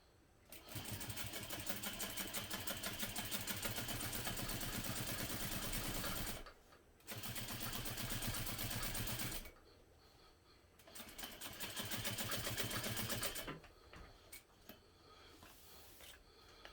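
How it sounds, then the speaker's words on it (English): A sewing machine top stitches a 1/8 inch seam through a bottom panel and its seam allowance, running in three long steady bursts with short pauses between, close and clear with no talk. "now we're going to top stitch through the bottom panel and seam allowance using a 1/8 inch seam"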